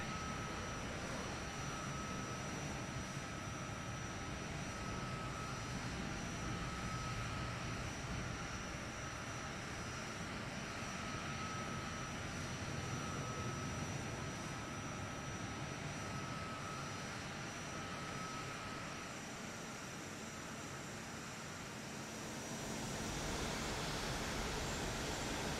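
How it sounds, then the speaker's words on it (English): An airplane engine in the Warlords Redux video game runs as the aircraft accelerates on a short runway ramp, a steady, loud, unbroken drone that swells slightly near the end. "Now it's time to find out if this thing can accelerate faster than the cast airplane."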